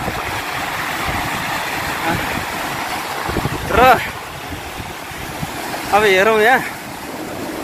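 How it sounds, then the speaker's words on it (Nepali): Flooded Marpha Khola river in Mustang rushing past, a continuous loud roar of turbulent water close by, with wind buffeting and someone speaking briefly. "यति तल बगेको खोला यति माथिको लेभलसम्म लिएर आएको छ त"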